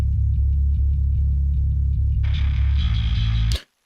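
Clean electric bass alone, the distorted high-passed layer removed, played as a steady run of plucked notes with a full, round low end, then a brief brighter burst before cutting off abruptly near the end.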